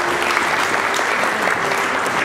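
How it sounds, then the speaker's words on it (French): A church congregation at a Sunday service claps steadily and loudly to acclaim the Lord, a dense, even wash of applause with faint voices mixed in. "Gloire à Dieu, est-ce qu'on peut acclamer le Seigneur?"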